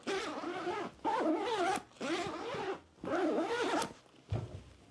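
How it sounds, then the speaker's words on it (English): A Minimul M20 backpack's front pocket zipper pulled open in several quick, smooth strokes, close up, with short pauses between pulls and no talking. "the front stash pocket / admin panel zipper is very smooth"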